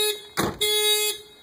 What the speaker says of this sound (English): All right, and if I open the door, the alarm will go off.